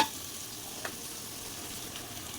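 Cinnamon and spices frying in ghee in a pot for village-style pulao, a steady low sizzle with a faint crackle, quiet and continuous with no talk.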